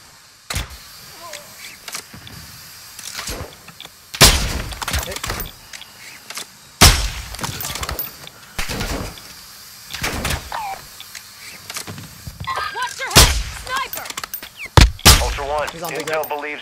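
Gunfire in the DMZ video game, where a player shoots at AI enemies: several sharp, loud bursts at irregular intervals, mixed with door-like clunks and other game sounds, with a voice speaking at points.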